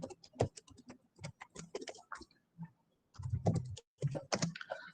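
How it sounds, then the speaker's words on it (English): Close, quiet keystrokes on a computer keyboard typing a command, irregular bursts of crisp clicks separated by short pauses. "Now for running the static code analysis, we will type the command as python flow finder"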